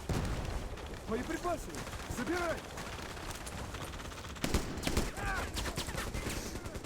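AK-47 fire in a video game, bursts of rapid shots at moderate distance with mechanical clatter, under a continuous bed of background noise.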